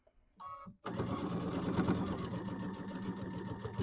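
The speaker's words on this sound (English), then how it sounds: "I do sew fast, but not quite that fast." A sewing machine stitching a quarter-inch quilt seam, a brief burst of stitching, a pause, then a fast continuous whirring run of rapid needle strokes, close and steady, no talking.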